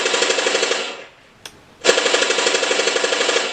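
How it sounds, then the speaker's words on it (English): Machine gun sound effect played from a toy tank's sound board, a steady rapid electronic rattle of bursts, broken by a short gap and then resuming, loud and close. "I've got 2 different machine guns"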